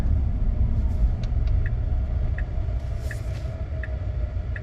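Tesla Cybertruck Founders Edition cruising on the road, a steady low tire and road rumble with only faint cabin hum and a few soft ticking clicks, quiet and even throughout with no talking.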